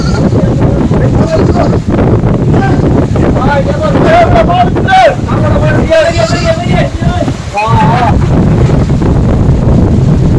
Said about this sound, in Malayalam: ഭയങ്കരമായ കാറ്റാണ്, എന്താണെന്നറിയില്ല.